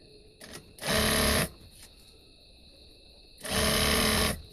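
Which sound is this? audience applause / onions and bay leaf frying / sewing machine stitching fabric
sewing machine stitching fabric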